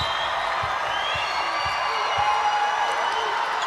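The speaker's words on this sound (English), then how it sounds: "The crowd is getting in the head of Nebraska, or at least trying to" A dense, steady roar from the crowd at a LOVB volleyball match, with Nebraska playing at Austin, swells continuously through the arena with scattered claps and shouts. Low, faint thumps recur underneath.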